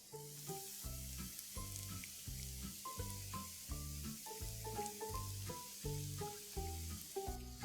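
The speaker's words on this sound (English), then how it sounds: "Saute this paste for a minute." Coconut peanut paste sautes with softened onions in a pan for a South Indian drumstick curry, giving a steady soft sizzle with faint stirring scrapes, close but quiet and without talk.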